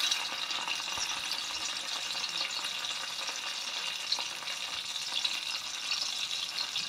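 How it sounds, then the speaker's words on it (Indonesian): Instant rendang spice paste for a beef rendang being sautéed in a pan gives a steady, even hissing sizzle with faint stirring ticks, close and fairly quiet throughout with no one talking. "Kita tumis lagi."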